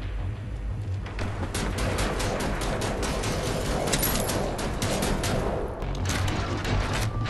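Gunfire in the video game Wolfenstein: The New Order, a dense, rapid barrage of shots crackling continuously for several seconds at steady loudness with no talk.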